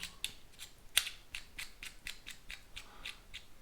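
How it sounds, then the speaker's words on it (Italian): A Tatara Muramasa safety razor being tightened, a rapid series of faint, crisp metallic ticks and clicks from the threaded handle turning, evenly spaced and close, with no voices. "Serriamo il rasoio."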